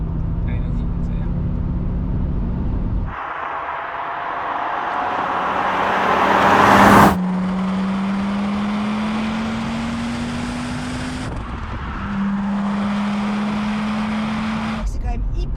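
An Audi RS2 accelerates hard from inside the cabin, engine note climbing steadily through the gears with a brief lift between shifts, loud and continuous under occasional speech.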